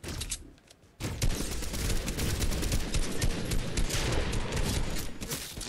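Dense, sustained gunfire in the video game Fortnite during a Doctor Who crossover event, a loud continuous barrage that bursts in after a brief quieter moment and keeps going without pause.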